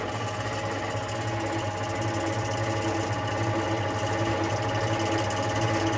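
Electric motor of a small mini oil press running steadily, a continuous machine drone with a strong low hum and rattling mechanical texture, close and constant with no talking.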